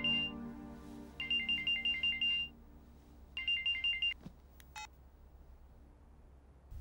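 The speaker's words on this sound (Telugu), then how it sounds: "ఫోన్." A telephone ringtone in a Telugu feature film scene rings in two bursts of rapid warbling electronic tones separated by a pause, followed by a brief beep, with no voices.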